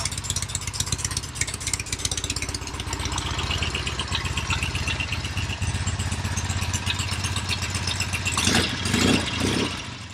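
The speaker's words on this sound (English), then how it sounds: "Got a nice quiet motor. Very good motor." Norton motorcycle engine idling steadily nearby with a quick, even, rattling beat that stays at a constant level throughout.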